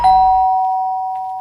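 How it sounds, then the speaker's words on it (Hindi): A single doorbell chime in a flat, a sharp electronic tone that starts loud and rings on steadily, slowly fading over about a second and a half with nothing else heard. "कि डोरबेल बजी"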